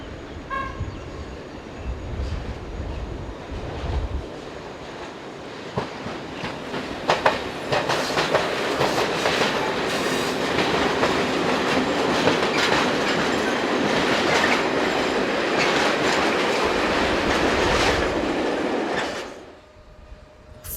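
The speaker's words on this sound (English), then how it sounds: "Class 1142s tend to appear on local freight services these days, mainly working in the south and east of the country." A Class 1142 electric locomotive hauls a train past at close range, a loud steady roar of rolling wheels with rhythmic clicking over rail joints and a horn toot, fading away near the end.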